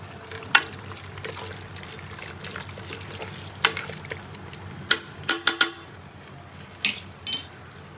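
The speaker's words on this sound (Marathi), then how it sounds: "मी पाणी टाकलं आहे त्याच्यामध्ये आणि 3 वाटी खोबऱ्याचं वाटण टाकलेलं आहे" Water going into a pot of Malvani mutton curry, heard as faint trickling under scattered metallic clinks of a spoon against the pan, close by, with several sharp clatters toward the end and no voices.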